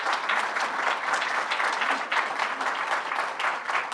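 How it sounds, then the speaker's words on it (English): Steady applause from a sizable crowd, dense clapping that holds at an even, loud level throughout without a break. "Can we give them all a round of applause?"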